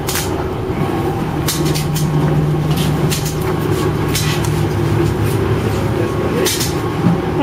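Steady rumble and drone inside a moving train carriage, with a low hum and scattered rattles and knocks throughout.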